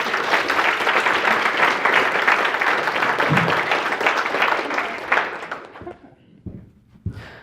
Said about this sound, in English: Let's give Lindsay a big round of applause